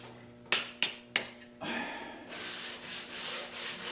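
A wooden tongue-and-groove cabinet door board is sanded by hand after three sharp taps. A steady close rasp follows, pulsing in rhythmic strokes, with no voices.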